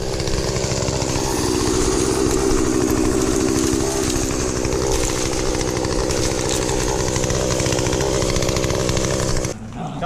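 A Werk Plus chainsaw engine runs steadily and loudly up close, a continuous buzzing two-stroke drone that holds for about nine seconds before dropping off near the end, with no talking.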